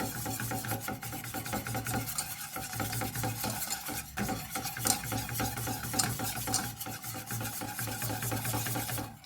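A whisk scrapes and swishes steadily in a pan of cheese sauce for cauliflower and macaroni cheese, making small circles around the edge over a gas flame, a continuous close rasping with no pauses.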